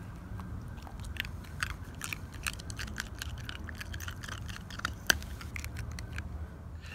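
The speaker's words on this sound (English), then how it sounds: "The ice cube's nice, baby boy." A puppy chews an ice cube, making sharp close crunches and crackles in an irregular rhythm over several seconds, with one especially loud crack partway through.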